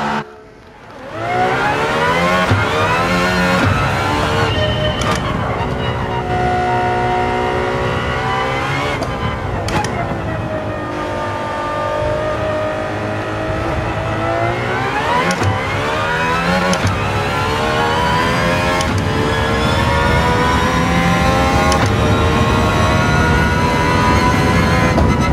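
A racing car's engine in Gran Turismo 7, loud and continuous, revving up and down through gear changes with rising and falling whine across the whole stretch.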